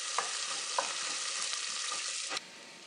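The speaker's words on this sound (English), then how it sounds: "now I'm going to add in the thinly sliced onions" Thinly sliced onions dropped into hot oil with sizzling spices for chicken pulao: a loud, dense, continuous frying hiss with a few stirring clacks, settling slightly quieter near the end.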